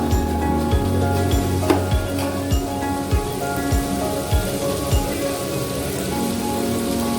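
Masala frying and sizzling in a pan for duck biryani, with onions and tomato cooked down; a steady crackling hiss continues throughout, close and fairly loud, with occasional clicks and stirring, and no voices.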